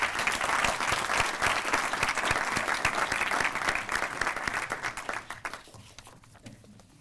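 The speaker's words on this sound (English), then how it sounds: "Please let's give him a round of applause." An audience gives sustained applause for an award recipient at a university distinguished awards ceremony, dense clapping that gradually thins and fades out near the end.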